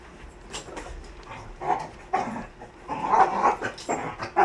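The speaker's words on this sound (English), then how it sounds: "assuming you can hear my dog again, most likely" A pet dog indoors lets out a string of close, uneven barks and yips, some short and sharp and others more drawn out, with brief pauses between bursts.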